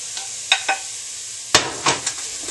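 Boca soy meat crumbles stirred together with onions in a pan, a light sizzle beneath scattered scraping clicks of the utensil against the pan, a few sharp taps standing out.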